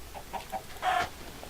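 Minecraft chickens cluck in short, soft bursts, a few quick clucks followed by one louder squawk, heard alone in a quiet game setting.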